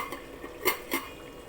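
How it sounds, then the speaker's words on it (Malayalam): A utensil stirs Kerala-style chicken roast in a pot, giving a few sharp metallic clinks and scrapes over a faint simmer. "ഇടയ്ക്ക് ഒന്നും കൂടി ഇളക്കി കൊടുക്കണം."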